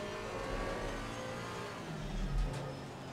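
A Porsche 718 Cayman GT4 engine in the racing game Assetto Corsa Competizione, a steady close mid-pitched drone that swells briefly as it revs, loud and alone.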